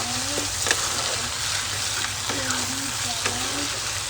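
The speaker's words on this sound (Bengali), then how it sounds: "তা ভালো করে একটু ভেজে নেব, একটু সটে করে নেব" Star anise spice powder sautés in a pan for chilli fish, a soft continuous sizzle with a few faint stirring clinks and scrapes spaced through it; no talk.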